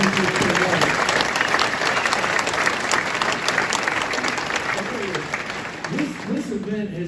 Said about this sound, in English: let's give Les a big round of applause